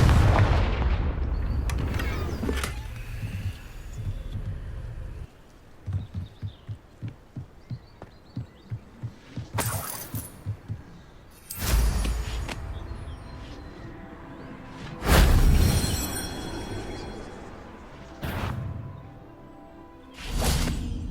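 Repeated explosive blasts from the Confringo fire spell in the Hogwarts Legacy game: several loud booms with whooshing tails, spaced a few seconds apart, broken by a rapid train of soft thumping pulses in between.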